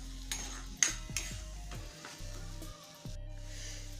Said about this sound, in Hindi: इसे अच्छी तरह से भून लेते हैं।